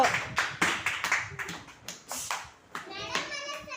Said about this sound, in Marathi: परीने टाळ्या वाजव परीसाठी